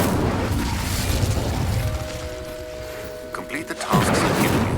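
An Incendio fire spell cast in Hogwarts Legacy on Xbox Series X bursts out as a booming, whooshing blast, followed by a steady tone and a sharp final burst, with game ambience throughout.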